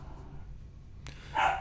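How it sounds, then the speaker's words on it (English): A dog barks once near the end, a short muffled bark in the background after a quiet stretch, with a brief click just before it. "Don't pay no attention to my dog in the background."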